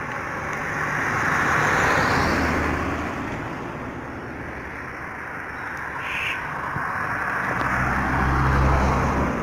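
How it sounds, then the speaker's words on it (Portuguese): A car passes by on a road near the Gargalheiras reservoir in Acari, Rio Grande do Norte, a broad rushing swell that rises and fades over a few seconds, followed by another approaching vehicle. "Passando carro."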